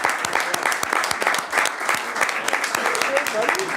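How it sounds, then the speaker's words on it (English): Audience at a council meeting applauding steadily, a dense wash of clapping hands filling the room for several seconds. "Congratulations, Chad, and one more round of applause."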